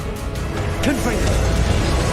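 Confringo, the blast curse in Hogwarts Legacy, fires with a swooping magical whoosh and crackle, followed by a sustained low rumble amid busy game noise.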